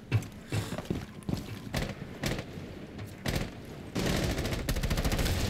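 Gunfire from a first-person shooter game, a series of short sharp bursts and shots spread across the clip, followed by a denser stretch of rapid fire at the end.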